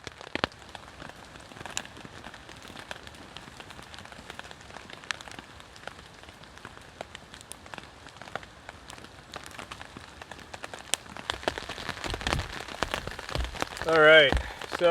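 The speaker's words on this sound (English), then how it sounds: "Rain's getting heavier, off and on." Rain falling on a camp tarp, a light patter of scattered drops and taps that grows denser near the end, with a voice speaking briefly at the close.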